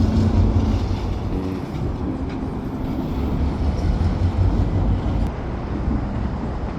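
A SkyTrain passes through the southbound section of the line with a loud, close, continuous rumble and rail noise that fills the whole stretch, heard from the northbound platform.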